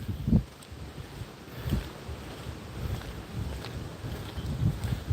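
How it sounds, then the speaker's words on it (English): Outdoor wind buffeting the microphone in gusts, a steady low rumble with louder bursts near the start and end, no talking. "My hair blowing in front of my face because it's behind the wind's blowing from behind me."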